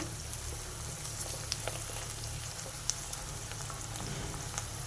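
Onions frying gently in a pan, a low, even sizzle with a few faint pops and ticks, no speech.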